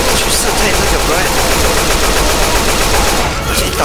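Sustained automatic gunfire in a video game zombie shooter, rapid continuous bursts aimed at a hulking tank enemy, loud and dense for the whole stretch with no pauses.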